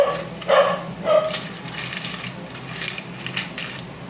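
A few short barks sound at a middle distance while chicken cooks, with light clinks of dishes or cutlery in the background.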